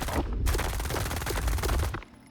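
Sustained automatic rifle fire from an assault rifle in the shooter game STALKER 2, a rapid, loud, continuous burst of shots lasting almost two seconds before cutting off, with no voices.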